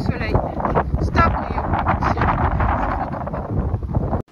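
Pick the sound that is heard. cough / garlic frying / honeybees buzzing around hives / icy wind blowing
icy wind blowing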